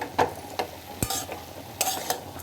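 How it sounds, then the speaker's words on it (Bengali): A spoon stirs a banana stem dish in a pan after sugar goes in, with several quick scraping strokes and taps over a soft background sizzle, close by and with no voices. "এই যে একটু চিনি দিয়ে দিলাম, দিয়ে একটু নেড়ে দেবো।"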